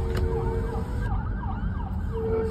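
An ambulance siren wails in rising and falling sweeps as it passes on a North Myrtle Beach, South Carolina street, loud and steady over traffic rumble, heard from inside a moving car.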